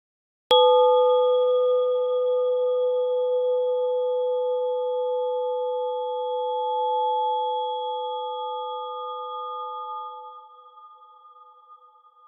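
A single synthesizer tone with reverberation added, struck once and sustained as a steady, ringing set of pure pitches that slowly fade over about twelve seconds, alone with no talk.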